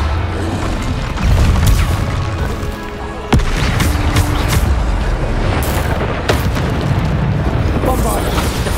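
Bombarda explosion spells cast in Hogwarts Legacy combat: loud, dense booms and bursts follow one another in a continuous roar of battle noise, with a sharp crack near the middle and voices faintly mixed in.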